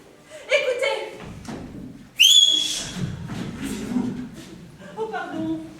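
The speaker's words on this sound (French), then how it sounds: "Je sais très bien siffler. Tenez, écoutez." A person whistles a short, bright rising note in the middle, loud and close, with indoor talking and a thud around it.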